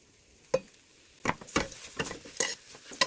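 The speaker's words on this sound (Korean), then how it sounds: "참기름 넣고 얘를 달달달달 볶아주세요" Dried pollack strips stir-fried with a spoonful of sesame oil in a pot, heard as a series of short scraping stirs and light sizzling bursts, fairly close and without talk.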